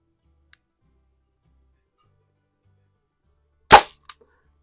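A single sharp crack from a Crosman M1 carbine air rifle fired during an air rifle championship, loud and close, preceded by a faint tick and followed by a small metallic click.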